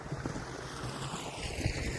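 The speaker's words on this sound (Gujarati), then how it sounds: "પાણી અહીંયા હાલે જ છે." Irrigation water flows through furrows in a kidney bean field outdoors, a steady broadband rush mixed with wind buffeting the microphone, with no voices.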